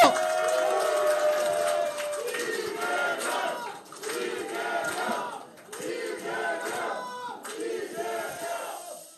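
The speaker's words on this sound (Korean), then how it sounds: "큰 박수와 환호로 모시도록 하겠습니다." Large crowd at a Korean political rally for Democratic Party lawmaker Lee Jae-myung, cheering and shouting in loud, sustained waves with rhythmic swells, dense voices filling the space throughout.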